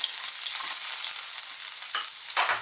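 Ginger hitting very hot, smoking sesame oil in a wok, a loud continuous hiss and crackle with a couple of sharper bursts toward the end, close up and without voices.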